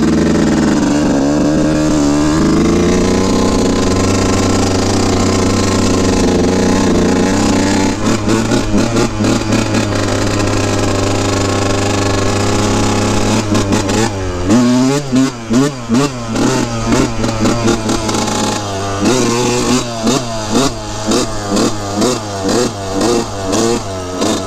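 A Yamaha YZ125 two-stroke dirt bike idles loudly and warms up up close, then blips its throttle in repeated sharp revs, rising and falling pitch over a rattling, buzzy idle.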